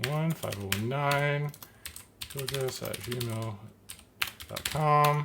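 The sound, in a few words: typing on a computer keyboard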